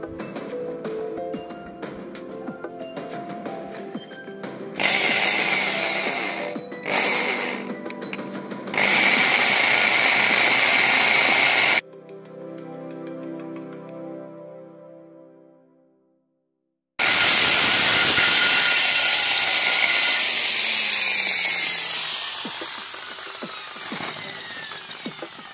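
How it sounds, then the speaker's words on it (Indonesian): A power drill with a number 10 bit whines loudly in several bursts, then a short quieter mechanical run and a pause, followed by another long, loud stretch of drilling a valve hole through a metal wheel rim. "buat ngebor lubang pentil ini kita butuh mata bor"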